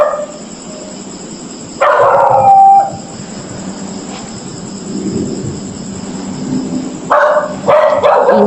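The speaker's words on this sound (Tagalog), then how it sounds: "Ingay-ingay ng aso na ito." At night in a public cemetery, a dog lets out two loud bursts of howling and barking, early and again near the end, with quieter rumbling background noise between them.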